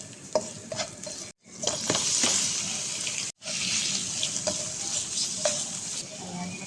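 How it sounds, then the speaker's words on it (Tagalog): Chicken breast sautéing in a pan, a steady close sizzle with stirring scrapes, briefly cut off twice by short gaps. "Dito na natin igigisa ang ating chicken."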